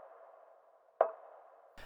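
A conga drum processed with heavy lo-fi effects gives one muffled, filtered hit with a short ringing tail, over a steady subdued hum, with a faint second onset at the very end.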